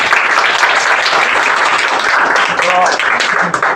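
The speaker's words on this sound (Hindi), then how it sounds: "अच्छा एक बार इंडिया के लिए ताली तो बजा दो।" Sustained audience applause and clapping filling the room, loud and continuous throughout, with a faint voice underneath.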